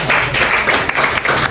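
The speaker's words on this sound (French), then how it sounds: "applaudissez très fort pour vous" Audience at a trading firm's inauguration event in a hall clapping, a dense loud burst of applause that carries on steadily throughout, with no distinct voices over it.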